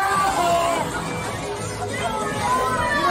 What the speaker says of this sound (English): I don't agree with the fans here booing him